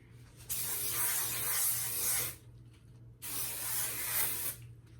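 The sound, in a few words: hairspray aerosol spraying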